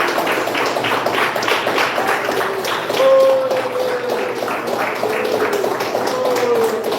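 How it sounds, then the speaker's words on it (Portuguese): A church congregation claps in rhythm, joyful steady palm beats repeating throughout, with a sustained tone from singing or an instrument rising in the middle. "com as palmas bem alegres para Jesus"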